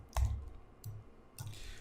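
Three separate clicks on a computer keyboard, spaced roughly evenly apart, each short and sharp against a quiet room background.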